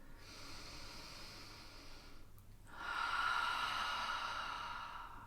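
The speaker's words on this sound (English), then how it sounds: "Use your breath here. Breathing deeply." Slow, deep breathing during a yoga session: a long, airy inhale followed by a louder, breathy exhale, close and alone against quiet room tone.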